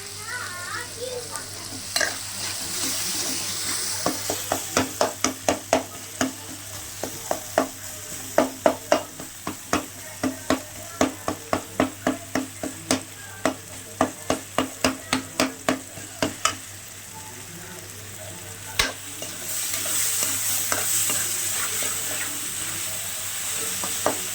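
Onion and tomato fry in a pan with a steady soft sizzle, while a spoon scrapes and taps against the pan in a regular rhythm through the middle stretch before the stirring stops.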